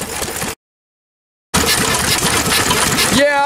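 An old engine at a fall engine show is fired up on a weak ignition battery after a second of silence, then runs with a loud, steady chugging that continues to the end of the clip.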